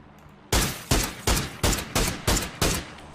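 Gunfire in the video game PUBG, seven loud, evenly spaced single shots in a steady rhythm, close and alone with no talk over them.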